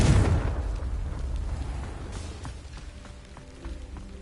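A Confringo fire spell explodes in Hogwarts Legacy: one loud, close blast at the start that rolls off into a long, rumbling decay with fainter crackles trailing behind.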